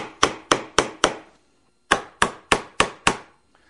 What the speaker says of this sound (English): I'm going to nail that template on the back side.